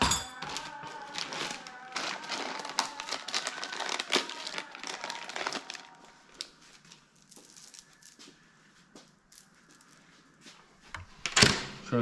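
A packaged chainsaw chain being unwrapped, close crinkling and rustling of packaging with small clicks and knocks, busy at first, then quieter handling and a sharp rattle near the end.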